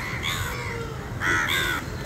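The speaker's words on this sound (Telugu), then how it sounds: "చూసారు కదా, ఇవే బర్డ్స్," Crows cawing at Uppalapadu bird sanctuary, several harsh calls in quick succession, fairly close and clear over a soft outdoor background with a louder burst near the end.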